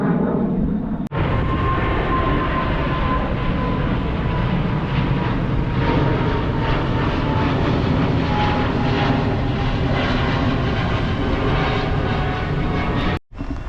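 Loud, steady engine roar from aircraft at Orlando International Airport, heard nearby and continuous with no talking.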